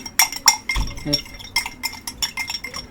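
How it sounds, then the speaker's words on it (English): A spoon clinks against a glass while vitamin C powder is stirred in water, bright irregular taps close by, a couple of louder knocks early, then a lighter run of quick clinks. "So just gonna mix it up here."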